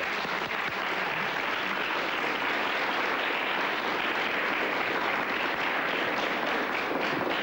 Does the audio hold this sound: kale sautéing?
no